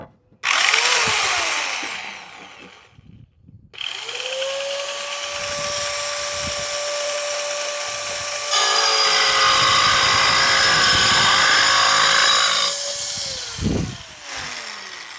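A tiny 4-inch circular saw spins up and cuts through plexiglass guided along a thin plywood edge, a loud, steady high whine with a shrill tonal edge that shifts pitch midway, then winds down at the end.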